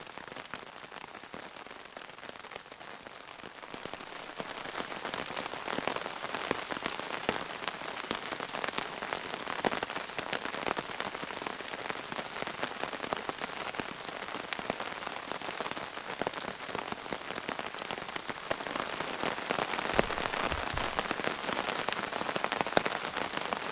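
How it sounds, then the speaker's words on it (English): Steady rain drumming on a tarp over a backpacking camp in the woods, a dense continuous patter that grows slightly heavier, with no voices. "So we're still sitting here in the rain."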